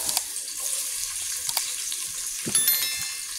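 Onions frying in about four to five spoonfuls of oil for moong dal give a steady hiss with small crackles, plus a brief clatter near the end, heard alone without speech.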